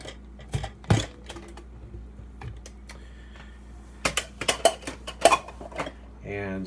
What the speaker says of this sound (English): So the lid just comes off